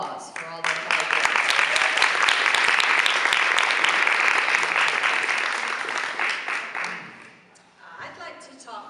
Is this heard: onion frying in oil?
no